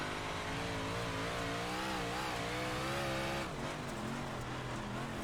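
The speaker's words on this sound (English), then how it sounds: "Now I'm hitting the gas way too hard" Dirt race car engine in iRacing at Volusia Speedway Park, a sustained high revving drone that wavers and climbs under heavy throttle, then drops slightly as the pitch eases near the end, steady and close without voices.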